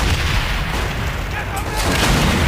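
A tank taking fire in Call of Duty: World at War, heard as a dense, continuous roar of heavy booming blasts and rumbling battle noise that stays loud and close throughout, with voices shouting faintly in the mix.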